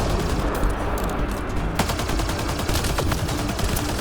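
Sustained gunfire in the video game Mass Effect Andromeda, loud rapid automatic bursts with sharp individual cracks over a constant roar of battle noise.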